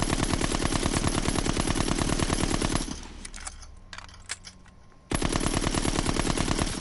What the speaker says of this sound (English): This is what it's like to sprint and fire.